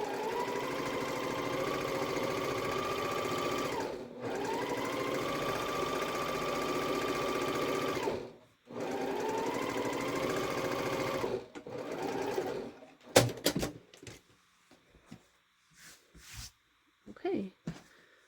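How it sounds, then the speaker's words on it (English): A sewing machine stitches quilt fabric in three steady runs of rapid, whirring hum separated by brief pauses, followed by scattered clicks and handling noises as the work is adjusted. "Since I don't pin, I always take a couple stitches, get everything lined up, and then keep on going."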